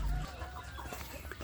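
Free-range village chickens (ayam kampung) cluck faintly in a pen area, a few soft low clucks over quiet outdoor background.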